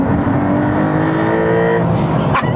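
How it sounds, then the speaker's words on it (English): A Porsche 911 Carrera T engine in Sport Plus mode revs hard and loud, its growl climbing in pitch before a sharp blip near the end. "Now the engine comes alive."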